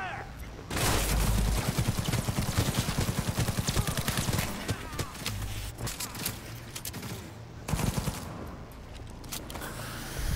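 Rapid automatic gunfire in Cyberpunk 2077 rattles in sustained, loud bursts with a few heavier booms, and voices speak intermittently amid the shooting.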